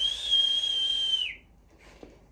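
A single sustained whistled note from a person during a cranial nerve exam, clear and fairly close, held for over a second before sliding down and stopping, followed by quiet.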